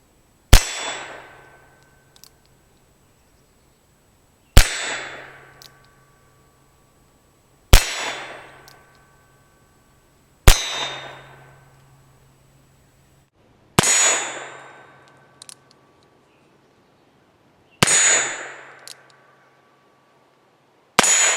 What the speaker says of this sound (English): Evil Roy is still downrange, and this time let's see how we do with the cartridge conversion cylinder shooting 32 Smith & Wesson.